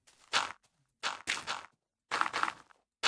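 Footsteps in Minecraft: heavy, muffled steps in uneven pairs with silent gaps between them, close and clear with no other sound.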